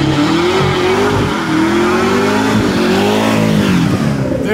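Supercharged Corvette Z06 roaring through a burnout, a loud, sustained engine howl with rising and falling revs and a harsh tire-squeal edge, close and continuous without a break.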